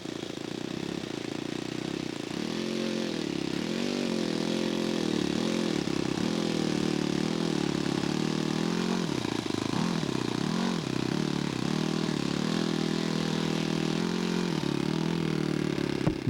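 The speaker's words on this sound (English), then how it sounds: "Nice flying little airplanes though." Scale model airplane flying at an air show, its small engine buzzing continuously at a distance, rising and falling in pitch as it passes and maneuvers, with no talk.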